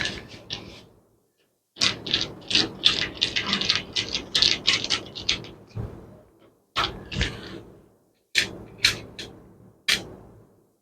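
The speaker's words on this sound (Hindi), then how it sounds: "यहाँ पर आप स्क्रू टाइट कर दीजिए।" Close mechanical clicks, scrapes and ratcheting from tightening screws into a desktop PC case during assembly of an Intel Core i5 12400 build, in irregular bursts separated by short silent pauses.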